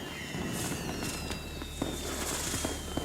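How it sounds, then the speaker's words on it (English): Fireworks in a Doctor Who episode about the Daleks: scattered crackling pops and a few sharp bangs over a continuous hiss and whistling tones, moderately faint and distant. "Good fireworks."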